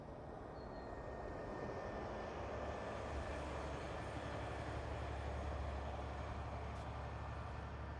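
Porter Airlines airliner landing on the runway at Toronto Pearson airport, a steady broad engine roar and rumble holding at constant loudness throughout with no voices.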